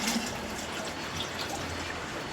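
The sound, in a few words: water being poured into a clay pot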